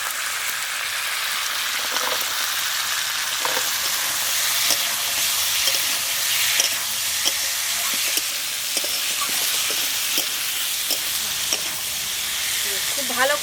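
Steady sizzling and crackling of peas frying in spice masala in a hot pan for a rohu fish curry, with occasional soft stirring scrapes throughout; no talking.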